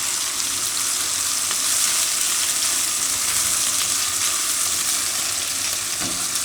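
Ginger hitting hot oil in a frying pan while a Gujarati green chickpea and tomato curry is cooked, giving a loud, steady, bright sizzle that carries on unbroken with no voices.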